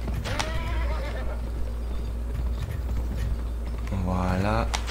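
A horse whinnies twice in the Western video game Gun, once near the start and again near the end, over a constant loud game background with mechanical clatter and hoof sounds.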